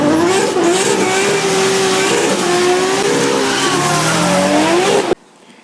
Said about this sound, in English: That was a nice little burnout.